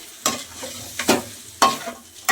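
Green chillies and curry leaves fry in a pan for a Nellore-style pappu pulusu, with a steady close sizzle broken by a few sharp stirring scrapes and bursts of crackle.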